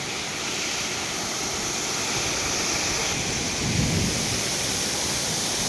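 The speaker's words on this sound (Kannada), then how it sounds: "ಏನು ಮಿಂಚು ಯಪ್ಪ ಭಯಾನಕರ ಮಿಂಚು ಬಂತು ಗುರುಗು ಮಿಂಚು" A low rumble of thunder rolls in briefly beneath steady, heavy rain hissing all around, near Honnamma Devi waterfall in Chikmagalur.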